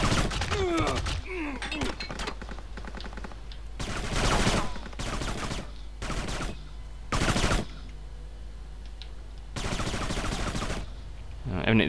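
Gunfire in the video game Kane and Lynch 2: Dog Days, loud bursts of shots recurring every second or two with gaps between, over a low background rumble.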